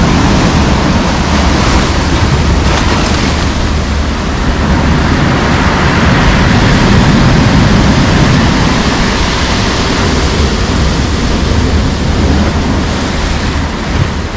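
Loud, steady roar of rough stormy sea waves crashing and surging, with wind noise, continuous and close.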